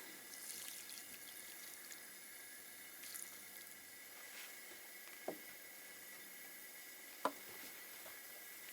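Water runs quietly and steadily from a kitchen tap while a skillet dish of salt, garlic powder and chili powder is prepared, with a couple of soft clinks standing out.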